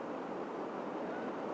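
Large curling river waves churn steadily as boats run the rapids on an Oregon river, a dense, loud, continuous roar of rushing whitewater with no voices over it.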